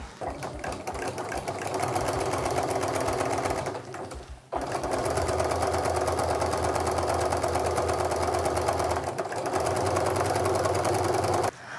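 A sewing machine runs steadily while stitching quilt-as-you-go double-sided placemat strips, a close, continuous mechanical whir with one brief pause partway through.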